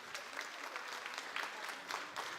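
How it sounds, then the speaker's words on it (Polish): Applause from a conference audience, a steady wash of many hands clapping at moderate level with no voices. "poproszę o brawa"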